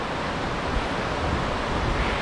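Water gushes in a loud, steady roar, a continuous broadband rush like a waterfall heard up close, swollen with snowmelt, with no voices.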